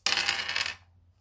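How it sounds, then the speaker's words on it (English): Dice tossed onto a hard surface in a quiet room, a quick clattering burst of small bright knocks lasting under a second, then settling to silence. "I want to roll the dice"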